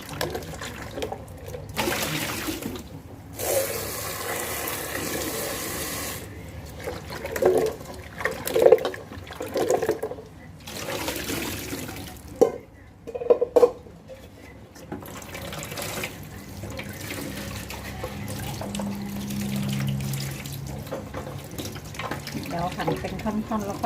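Ingredients for pla ra song khrueang, a Thai fermented fish dish, are washed under running tap water, with bursts of splashing and trickling that start and stop, and some louder knocks and handling sounds in between.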